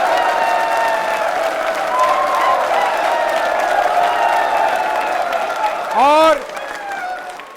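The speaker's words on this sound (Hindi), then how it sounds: "तालियां जोरों से बजाइए अपने लिए।" Trainee accounts officers in an institute hall applaud themselves, a steady wash of crowd clapping that stays loud throughout, with a host's voice speaking over it near the end.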